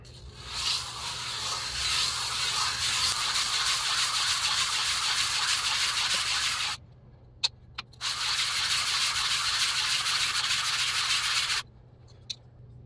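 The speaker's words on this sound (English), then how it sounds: "when you do sand something and you want it perfectly flat by hand, you do a figure eight" A Damascus chef's knife is hand-sanded flat in figure-eight strokes, a loud continuous gritty rasp of abrasive on steel that runs steadily, stops briefly with a couple of knocks, then resumes before a final pause.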